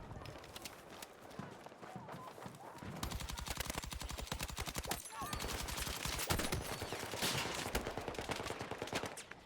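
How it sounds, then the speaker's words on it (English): Sustained gunfire rattles through a Battlefield 6 multiplayer match, rapid automatic bursts and repeated shots forming a dense, continuous crackle, close and loud with scattered louder reports throughout. "Who is shooting at me?"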